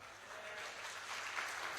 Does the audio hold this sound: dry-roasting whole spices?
no